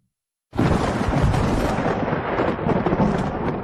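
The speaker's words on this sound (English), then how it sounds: "That night the storm broke with a clap that shook the walls of my room." A loud, sudden crack of thunder bursts out of silence and rolls on as a dense, sustained rumble, close and powerful.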